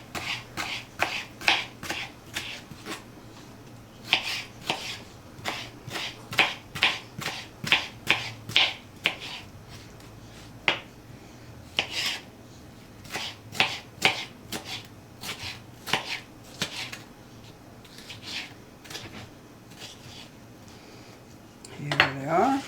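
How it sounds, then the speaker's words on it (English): A knife chopping tomato strips into small squares on a cutting board for a salad, with rapid runs of crisp taps broken by short pauses, close and fairly quiet, with no talking. "Then those strips, cut them in little squares."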